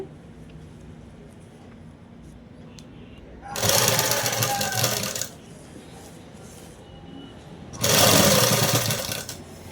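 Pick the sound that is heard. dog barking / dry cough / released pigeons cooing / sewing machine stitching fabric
sewing machine stitching fabric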